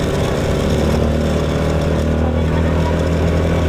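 A motorcycle engine runs continuously, a loud, close, rough droning rumble that holds steady without revving or pauses.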